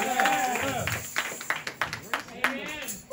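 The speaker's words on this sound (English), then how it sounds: "Come on and clap your hands for grace and mercy." A church congregation claps along, with a string of distinct rhythmic hand claps ringing in a reverberant hall while a preacher's voice carries over them.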